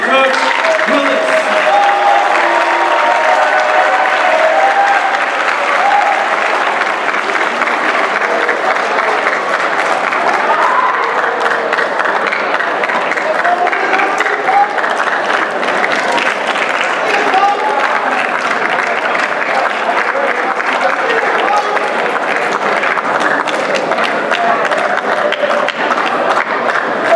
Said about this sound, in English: Can we give an awesome TCA round of applause for Coach Willis?